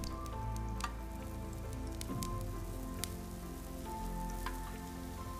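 Dosa batter frying on a hot griddle after a sprinkle of ghee, giving a steady close crackling sizzle with scattered pops, with no voices.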